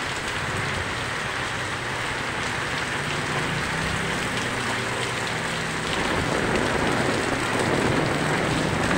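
Rain falling in Bulan, Sorsogon, Philippines during a rainy spell, a dense, continuous hiss of drops pattering on surfaces that swells slightly louder toward the end, with no voices.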